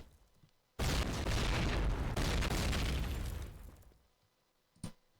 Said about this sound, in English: The nades explosion in COD 1